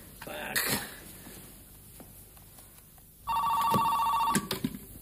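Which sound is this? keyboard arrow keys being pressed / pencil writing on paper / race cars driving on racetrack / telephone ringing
telephone ringing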